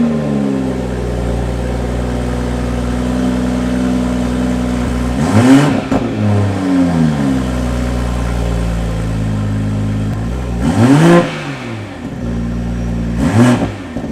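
A BMW B58 engine idles with a low steady exhaust rumble, then revs sharply three times, each rise in pitch falling back to idle; loud and close.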